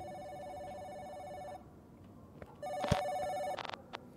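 Telephone ringing in two separated rings in a video game, the second louder with a sharp clunk during it, otherwise quiet with no talking.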